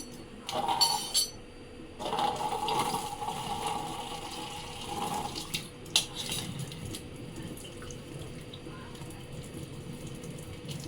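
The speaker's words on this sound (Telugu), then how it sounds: "ఇలా నీళ్ళు వంపేసుకోవాలి" Water poured off in a home kitchen while cooking a curry, heard as short splashing gushes with the clink of metal pots and utensils between them, close and fairly quiet.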